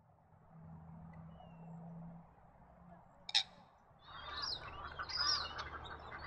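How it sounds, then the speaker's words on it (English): Dusky moorhen calling from a freshwater lake edge near reed beds: after a stretch of low background rumble, a sharp click, then a burst of loud, harsh chirping and squawking calls close by. "Dusky moorhen inhabit freshwater lakes, especially if there are reed beds nearby."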